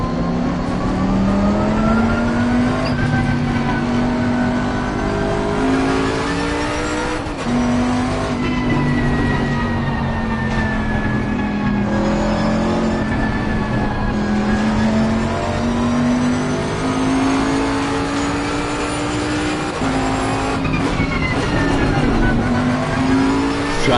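A race car engine drones loud and close throughout a lap of Zolder in Assetto Corsa Competizione, its pitch rising and falling through gear changes and heavy braking, with faint tire noise beneath.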